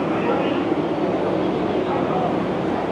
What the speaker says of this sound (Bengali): আমাদের ট্রেন জাস্ট স্টেশনে ঢুকলো